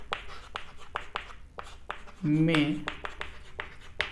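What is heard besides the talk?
writing on a board during a lecture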